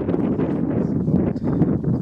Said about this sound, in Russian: Немножко на улице ветрено, но прекрасная очень погода.